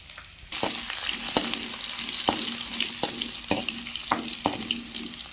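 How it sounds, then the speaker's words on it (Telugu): Sliced onions fry in hot oil in a pan for a village-style dry chilli curry, a dense bright sizzle marked by regular spatula scrapes about every half second, close and loud, with no talk. "లైట్గా అయితే ఉల్లిపాయ వేగిందండి మనకి"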